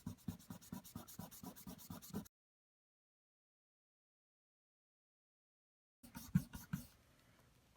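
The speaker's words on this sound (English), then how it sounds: "I can take my kneadable art eraser once my ink is completely dry, and I can erase all the pencil marks" A kneadable art eraser rubbing out pencil marks on paper gives rapid, rhythmic scratchy back-and-forth strokes for about two seconds, then silence, then another short burst of rubbing, close and fairly quiet, with no talking.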